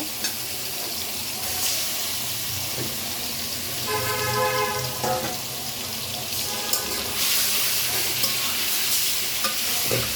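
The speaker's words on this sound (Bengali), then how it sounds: "এখন চিকেনটাকে ভেজে নিব" Loud, continuous sizzling of food frying in hot oil, with occasional stirring scrapes throughout and no voices.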